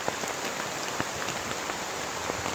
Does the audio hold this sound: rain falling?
yes